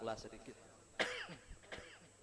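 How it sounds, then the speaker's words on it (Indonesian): Someone speaks briefly, then coughs sharply a couple of times, with a short throat-clearing cough near the end, close and fairly quiet. "Ulun ini sambil batuklah sedikit."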